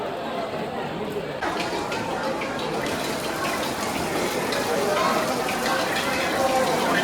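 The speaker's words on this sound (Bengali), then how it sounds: "নিচে গামলা টামলার উপরে জলটা পড়ছে" Water spills steadily onto basins at a Durga Puja pandal installation in Salt Lake's AK Block, a continuous splashing wash with dhaak drums and crowd voices mixed in around it.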